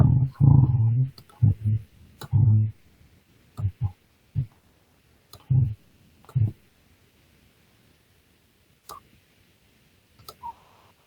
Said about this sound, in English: I only have to click on this now.